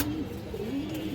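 Indian high flyer Kaldam pigeons, a breeding pair, give a soft, low, rolling coo that carries on steadily through the short stretch, close and fairly quiet, with no speech.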